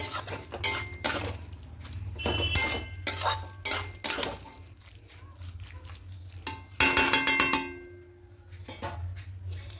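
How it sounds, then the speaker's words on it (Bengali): A metal spoon clanks and scrapes around a pot while cabbage curry is mixed with spice paste and ghee. The sounds come as quick, irregular, close knocks and rattles, with a brief louder scrape near the end. "খুব ভালো করে সমস্ত কিছু একসঙ্গে মিশিয়ে নেব।"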